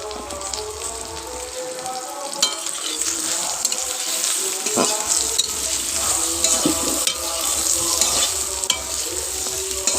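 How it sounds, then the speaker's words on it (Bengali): Taro pieces shallow frying in hot oil with salt and turmeric, a dense close sizzle with busy crackling and occasional stirring scrapes throughout, no voices. "এবার কচুগুলোকে আমি একটু শ্যালো ফ্রাই করে নেবো"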